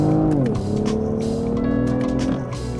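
A Lexus ES engine revs hard under acceleration using the paddle shifters, its loud, steady tone rising and then dipping at a shift, with a sustained drone and no talking.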